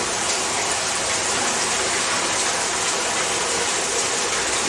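Pumped water flowing and splashing through biological filters, a loud, continuous rushing gush with no break, close by and steady throughout.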